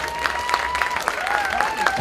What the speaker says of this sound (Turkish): Ya alkışlayalım bu güzel kardeşimizi.